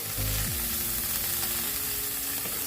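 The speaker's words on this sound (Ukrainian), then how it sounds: "На сковорідку ми викладаємо вершкове масло." Constant sizzling hiss of butter frying in a pan, with a low hum and faint clinks in the background.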